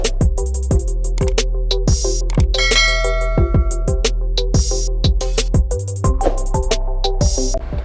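Bright, ringing notification dings and clangs repeat in a quick, even rhythm, close and loud. They form a busy chime pattern with no voices.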